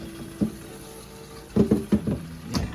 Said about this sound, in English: So I'm going to go ahead and add my little bit of water